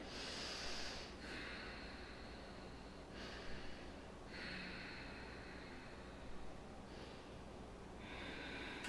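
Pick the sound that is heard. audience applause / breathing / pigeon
breathing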